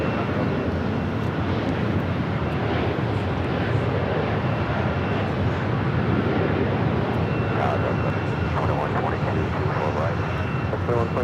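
An airliner takes off from runway 24 left at Los Angeles International Airport, its engines a loud, steady roar that fills the whole stretch, with an air traffic control voice heard over it.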